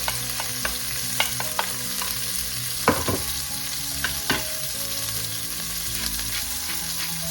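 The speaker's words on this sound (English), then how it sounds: "We can now start sauteing our aromatics here, garlic, onions, and tomatoes" Garlic, onions and tomatoes sautéing for Filipino chicken afritada, with a steady sizzle punctuated by repeated scrapes and clacks of a utensil stirring in the pan, close and alone without any talk.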